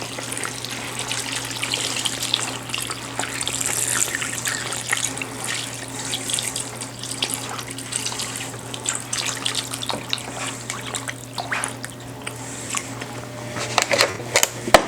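About four quarts of water pour steadily into a soup pot for split pea soup, a continuous close splashing rush with faint clatter and no talking.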